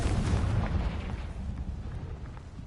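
A Confringo fire spell bursts against rocks in Hogwarts Legacy, a loud booming blast at the start that rolls into a rumbling, crackling decay.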